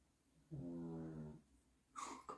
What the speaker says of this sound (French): Comme il ronfle.